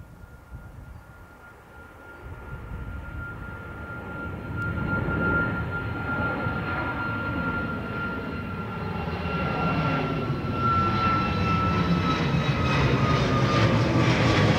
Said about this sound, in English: Ryanair 812, hello, taxi November 2, line up runway 28 right and wait